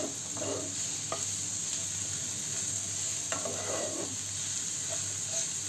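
Capsicum and cocktail sausages with softened onion fry in a pan, a low steady sizzle broken by a few short scraping stirs of a spatula, close-up and without voices.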